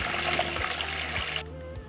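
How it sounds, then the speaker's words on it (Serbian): Warm water pours into a cooking pot packed with glass jars set on a cloth, a steady close splashing and trickling that runs for most of the moment, then cuts off near the end. "Nalivam toplu vodu do visine poklopca."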